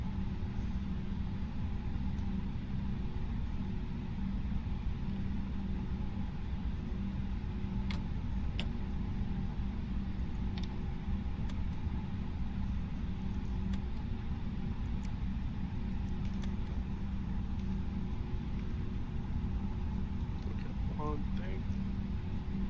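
An airliner's number two engine starts up in a flight simulator at a busy Newark airport event, a steady low rumble and hum that holds throughout, with a few faint clicks and short tones sitting above it.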